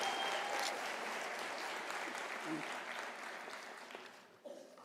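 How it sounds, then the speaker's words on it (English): An audience at a university graduation ceremony applauds doctoral graduates, a broad wash of clapping that slowly tapers off, with faint voices underneath. "Can we give an applause to them?"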